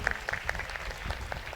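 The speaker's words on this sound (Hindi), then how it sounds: "एक बार इनके लिए जोरदार तालियां बजाएंगे।" An audience at a Hindu religious event claps in a short burst of scattered, uneven hand claps. The applause sounds fairly faint and somewhat distant, with no speech over it.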